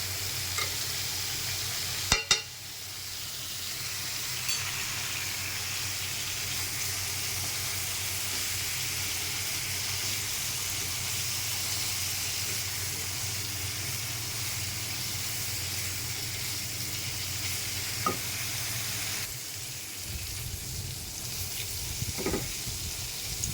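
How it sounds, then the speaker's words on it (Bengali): Soybean chunks, potato and papaya frying in ghee in a pan: a continuous, even sizzle held close, with a sharp utensil clatter near the start and a couple of faint taps later. "আমার সয়াবিন আলু পেঁপে ভাজা প্রায় তৈরি হয়ে গেছে"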